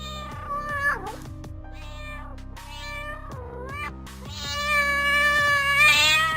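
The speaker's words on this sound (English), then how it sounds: "I don't know why the black cat is making such a fuss" A black cat meows repeatedly and insistently over several seconds, the calls rising and bending in pitch and growing louder toward the end, with no one talking.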